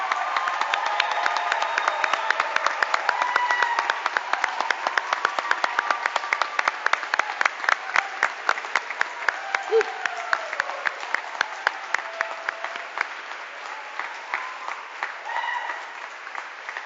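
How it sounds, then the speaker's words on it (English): An audience at a December graduation recognition ceremony applauds master's degree candidates, with sustained clapping that thins into scattered individual claps toward the end while a brief voice sounds in the middle. "Let's applaud the master's degree candidates."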